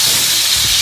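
Tuna steak searing in a hot pan for a teriyaki sandwich gives a loud, steady sizzling hiss that fills the whole short stretch, with no talk over it.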